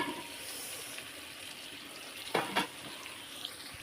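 Biryani ingredients being sautéed in a pan, a soft continuous sizzle with a couple of sharp stirring clatters in the middle.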